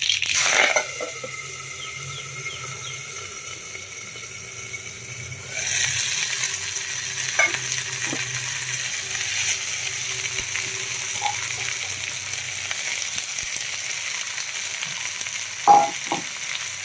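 Radish pieces hit hot oil with crackling mustard seeds for a Gujarati radish dish, giving a loud burst of sizzle and popping at first that settles into a steady, quieter frying hiss with occasional sharp pops and utensil clinks.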